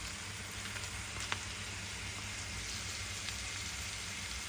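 Mushrooms and minced meat frying with softened onion in oil, giving a steady, even sizzle throughout with a couple of faint clicks of stirring.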